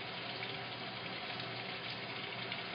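Water gushes steadily into a washing machine as it fills, a loud continuous rushing hiss close by with no voices.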